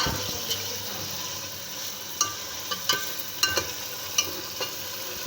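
A mixed vegetable blend added to chicken qorma frying in a pot sets off a steady close sizzle, with a few sharp clinks and scrapes of stirring scattered through it.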